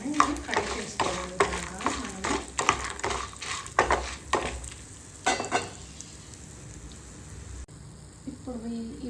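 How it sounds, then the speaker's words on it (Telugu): Coriander seeds and spices dry-frying in a pan over a low flame, with repeated scraping stir strokes and light crackle, loud at first and easing off, with a voice speaking briefly near the end. "ఇప్పుడు ఇవి ఫ్రై అవుతున్నాయి కదా"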